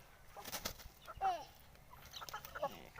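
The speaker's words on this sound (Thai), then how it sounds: "ตัวนี้เป็นไก่หนุ่ม สี่เดือนนะครับ" A four-month-old young Burmese fighting rooster clucks a couple of short calls among other fowl at feeding time, with scattered wing flaps and scuffling nearby, fairly quiet overall.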